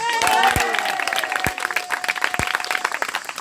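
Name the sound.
audience applause for contestant Françoise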